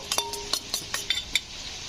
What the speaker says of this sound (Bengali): সসগুলো সব মিশিয়ে নিলাম